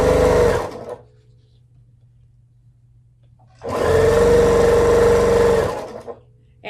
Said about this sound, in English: After I get done sewing these 9 patches together